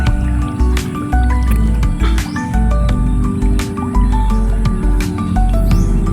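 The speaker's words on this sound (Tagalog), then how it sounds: "parang yung kumukulong tubig. Ayan, tingnan, nagbabubbles." Water bubbling and dripping in a fish tank holding fingerlings, with a steady wet gurgle and scattered drips and splashes running close and fairly loud throughout.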